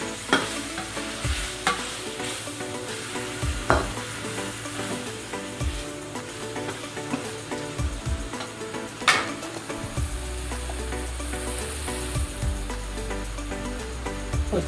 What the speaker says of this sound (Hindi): चिली सॉस और शहद शामिल कर देंगे। उसको अच्छे से मिक्स करेंगे।